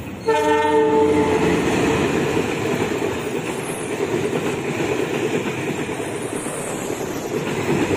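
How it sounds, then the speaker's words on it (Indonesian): The Ranggajati passenger train in Indonesia roars past close by, its horn sounding briefly at the start, followed by a continuous rumble and rhythmic clatter of wheels. "Kereta api Ranggajati ya, dari Jember tujuan Cirebon."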